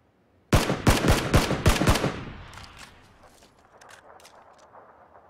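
Burst of rapid automatic gunfire in the video game PUBG, about seven loud close shots in quick succession, then fading echoes and scattered faint distant pops, no talk.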